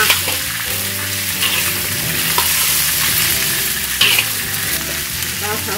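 Winter melon and mushrooms are stir-fried in a hot wok with a loud, close, continuous sizzle and several sharp scrapes of the spatula against the pan.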